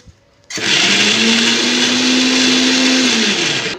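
A mixer grinder whirs loudly after a quiet start, grinding with rock salt and holding a steady high-pitched motor drone close by until it slows slightly near the end.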